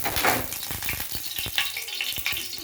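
Pomfret fish fries in a pan with steady, dense sizzling, broken by sharp spattering pops and a few scraping stirs, close and fairly loud.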